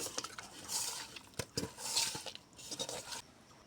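Seasoned meat with salt is mixed by hand in a dish, making soft close clinks and squelchy scrapes in short irregular bursts, with no talking.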